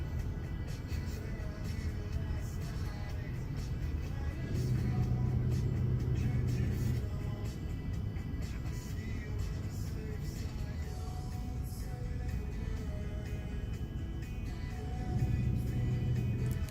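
A 2018 Acura RDX creeps through stop-and-go traffic, a soft steady interior hum of road and engine noise with faint low rumbles swelling twice as it moves, no one speaking.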